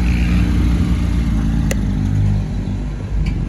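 A Porsche 911 GT3 992 race car pulls away from a car show, its engine a loud, close rumble that holds steady and then eases slightly as it moves off, with no talk.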